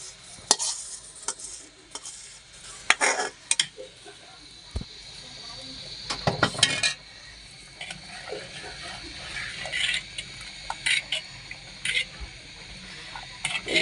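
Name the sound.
stirring caramel into milk payesh in a pot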